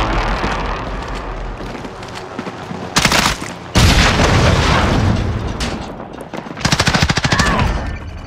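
Bursts of rapid automatic gunfire in a first-person shooter video game, with long loud volleys and sharp shots clustered through the middle and end, dense and close.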